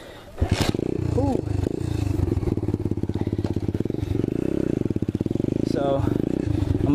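Apollo 125cc dirt bike revving hard through a wheelie, a loud continuous engine roar with rising pitch sweeps, close by and alone without talk.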